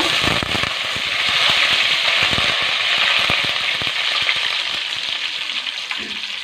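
Dried red chillies and curry leaves frying in hot oil for a sweet lime pickle, giving a loud, steady hiss with sharp crackling pops scattered throughout, close up and without talk.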